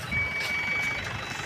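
Single high, thin reversing beep tone from a backing vehicle, lasting about a second over a low engine rumble, fairly faint.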